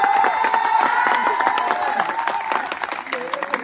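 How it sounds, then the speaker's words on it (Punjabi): Crowd at a school farewell program at Shri Krishna Shiksha Sadan bursts into steady applause and cheering, with shouts and voices mixed into the continuous clapping throughout. "ਤਾੜੀਆਂ ਹੀ ਤਾੜੀਆਂ"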